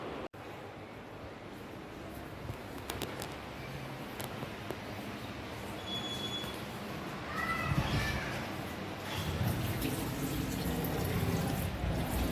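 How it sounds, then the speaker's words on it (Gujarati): Water runs steadily from a tap as a child washes hands, a soft continuous splashing flow that swells slightly toward the end, with faint household sounds around. "ચકલી બંધ કર ના, આપણે ચકલી બંધ કરી દે."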